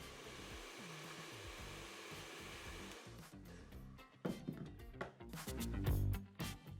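A hair dryer blows heat onto hair on the crown while a comb shapes it. A steady, close whirring airflow gives way to uneven rustling and knocking handling noises as the styling goes on.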